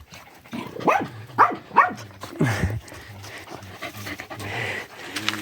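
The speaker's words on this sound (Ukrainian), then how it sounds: "Нагавкалась." A dog panting, with a few sharp barks and yips in quick succession early on, then softer whimpering and panting close by, outdoors near a yard.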